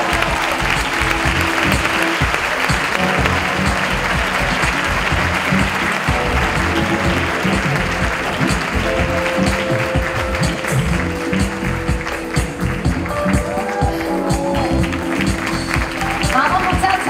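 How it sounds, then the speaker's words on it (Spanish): Audience applause at the 2017 Premios Latino award ceremony, a loud continuous wash of clapping lasting throughout, with cheering and voices mixed in and music-like tones weaving underneath. "¡Un fortísimo aplauso!"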